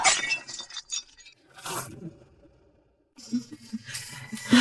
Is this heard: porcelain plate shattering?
yes